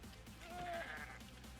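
Goats bleat in the video game Minecraft: one wavering, nasal bleat rises over a soft background of game ambience, fairly faint and alone.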